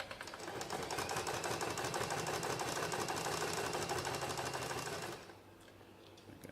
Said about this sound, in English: lift your foot, pivot, and start stitching again